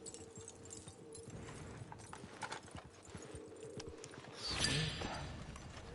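Faint hooves clip-clop in an uneven, steady rhythm as a horse walks through the town of Valentine in the video game Red Dead Online, with a soft rustling swell near the end.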